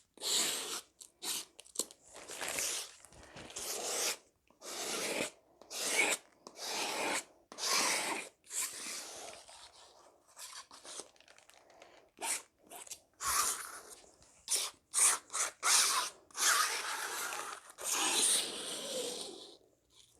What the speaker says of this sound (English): Now scraping a little bit harder so it brings out the yellow and mixes in.